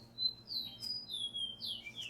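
A fox sparrow sings a faint series of clear, sliding whistled notes in quick succession, alone against a quiet background.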